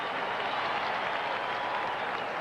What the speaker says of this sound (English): Broncos applauding, apparently